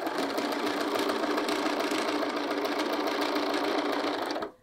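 A sewing machine stitches steadily across the bottom of a field bag pocket, a loud, close, continuous mechanical whir that stops abruptly at the end.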